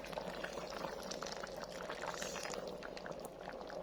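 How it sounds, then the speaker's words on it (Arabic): Boiling water pours steadily onto rice in a pot for a rice dish with crab sticks, a continuous close splashing rush lasting the whole moment with no talking. "وننزل عليهم بقى بالميه المغليه"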